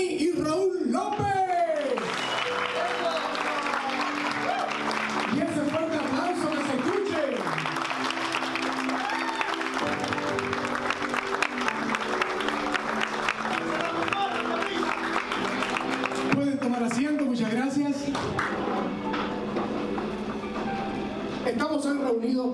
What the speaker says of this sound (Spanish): Para que recibamos con un fuerte aplauso a los orgullosos padres, a Jani y Raúl López.